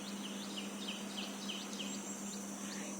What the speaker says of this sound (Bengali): আর চারদিকে পাখির ডাকাডাকিতে ঘুম ভেঙে যায়